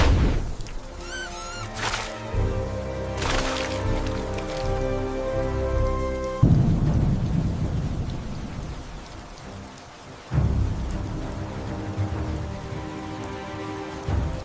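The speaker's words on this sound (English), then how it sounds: "The monsoon begins." Monsoon thunderstorm rain pours down in a jungle, a dense, steady downpour broken by deep rolling thunder, with no voices.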